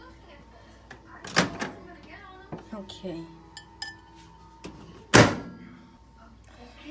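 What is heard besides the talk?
microwave oven door being opened and closed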